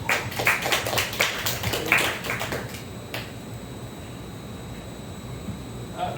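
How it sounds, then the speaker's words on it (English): A small online demo-day audience claps briefly in sparse, irregular claps for a couple of seconds, then fades into a quiet hum. "Let's give him a round of applause."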